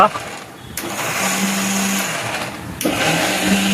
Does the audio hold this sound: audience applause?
no